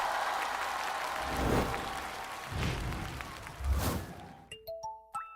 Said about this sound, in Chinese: 让我们掌声欢迎杨宗纬、岳云鹏，加油！